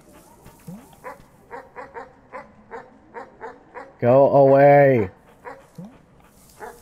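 Dog barks from the video game Animal Well, a run of short regular yips punctuated by one loud sustained howl-like burst, with a person talking over it throughout.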